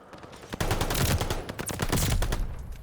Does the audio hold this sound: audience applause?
no